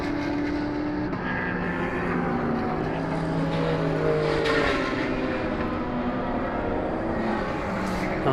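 Race cars howl around the Ruapuna circuit in Christchurch during an endurance round as a Mercedes overtakes another car, layered engine notes shifting pitch up and down, continuous and fairly loud with no talk.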